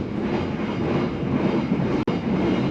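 A train runs along the track as a Tawang Jaya Premium mid-range service near the Java Sea, heard as a steady, loud rolling rumble with a brief sharp click near the end.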